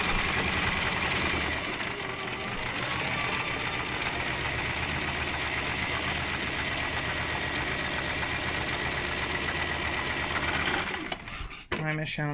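A sewing machine runs steadily for about eleven seconds with a dense mechanical whir, then slows and stops near the end.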